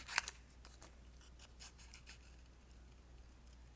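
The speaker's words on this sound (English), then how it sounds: "So now let's do a little bit of fussy cutting." Small scissors snip around paper pieces close up, a sharp clip at the start followed by faint, intermittent cutting and rustling in a quiet room.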